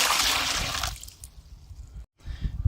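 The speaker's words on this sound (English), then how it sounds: "Now I'm gonna put 10 liters of water." Water pours into a bucket, a loud broadband rush for about a second that fades into lighter trickling and splashing, then a short break before further sloshing and dribbling.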